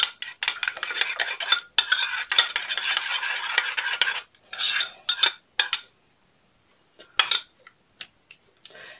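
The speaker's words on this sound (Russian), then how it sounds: "Все хорошо перемешиваю." A spoon scrapes and clinks around a bowl as a thick mayonnaise and sauce mixture for pizza is stirred, in quick bursts and pauses, close up with no talking.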